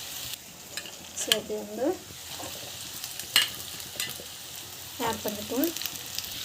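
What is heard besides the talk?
sautéing ingredients in a pan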